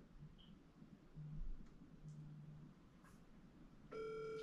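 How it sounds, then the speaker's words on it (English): A mobile phone vibrates indoors with a few short, low buzzing bursts, then a steady electronic ringing tone starts near the end over a faint room hum; no one speaks. "So why I hear my phone vibrating in here?"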